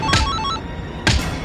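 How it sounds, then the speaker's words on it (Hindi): A telephone ringing for an incoming call in a Bhojpuri TV drama scene, heard as two short bursts about a second apart, fairly loud and close with no talk over them. "गेम के समय ही फोन आवत है।"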